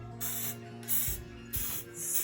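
Aerosol spray paint hissing into a cup in short bursts, three separate sprays with brief pauses between, close and fairly loud over faint mechanical background.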